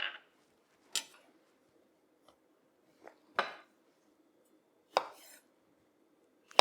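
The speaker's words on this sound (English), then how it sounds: "I have some pitted Kalamata olives here. So I'm just going to slice them in half." Knife chopping pitted Kalamata olives in half on a cutting board, with five or six sharp, separate board knocks spaced about a second apart over a faint steady kitchen hum.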